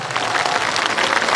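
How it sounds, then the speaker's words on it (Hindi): A crowd claps loudly at a Jan Suraaj Party political rally in Bihar, a short, dense burst of applause. "ताली, जोर से ताली बजाइए।"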